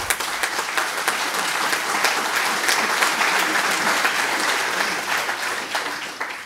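A seated audience at the opening of a political summer university breaks into sustained applause, dense overlapping claps holding at a steady, loud level for several seconds, with a few sharper individual claps standing out.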